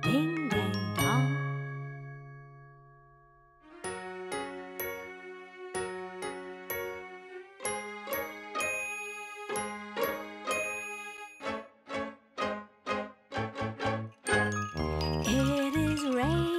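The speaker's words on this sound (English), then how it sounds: "Morning bells are ringing, morning bells are ringing." Bright chiming tones ring out in a melodic, steady pattern, with a short higher ding near the start, then repeated bell-like notes that quicken toward the end.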